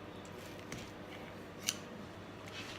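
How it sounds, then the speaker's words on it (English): Scissors snip through a thick aloe vera leaf in one short, crisp cut midway through, against a faint, quiet room background. "So just taking a pair of scissors and cutting it."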